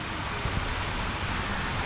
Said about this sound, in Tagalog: So yun mga kaparbes, umuulan na naman.